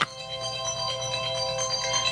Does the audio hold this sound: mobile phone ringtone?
yes